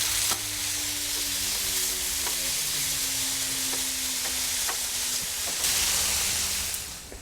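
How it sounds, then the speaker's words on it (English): Bacon strips sizzle and crackle steadily in a pan on a grill, a dense continuous frying hiss with scattered pops and a low hum underneath, fairly loud and close throughout. "All right, we're gonna get them fried up."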